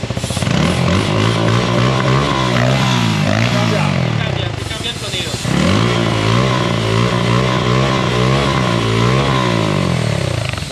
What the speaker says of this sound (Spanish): ¿Este qué es? Un Austin Racing,